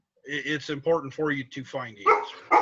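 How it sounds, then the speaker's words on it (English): Dogs bark indoors under a man's steady speech, with a few short, sharp barks breaking through near the end. "sorry about the dogs."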